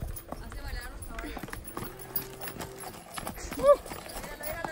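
Horses' hooves clip-clop at a walk on hard ground, a loose uneven rhythm under people chatting nearby, with a brief whinny near the end.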